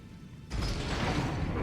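An elevator mechanism in Elden Ring starts abruptly after a quiet moment, a loud grinding, rumbling rush of moving machinery that carries on steadily to the end.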